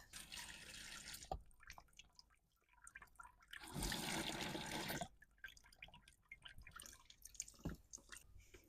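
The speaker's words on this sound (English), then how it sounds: "Once this is done dripping, I like to close the switch here" Irregular drips of antifreeze fall from a Scamp trailer's outdoor shower into a bucket, with scattered splashes and a louder gushing stretch in the middle, no voices.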